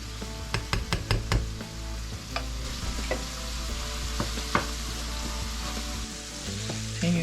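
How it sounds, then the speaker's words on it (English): Ground beef sizzles steadily in a pan while being broken up, with a quick run of sharp utensil knocks at the start and scattered scraping taps after, close and clear with no talk. "Continue to break up our hamburger."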